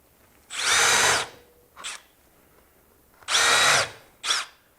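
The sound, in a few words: power drill driving screws into Western red cedar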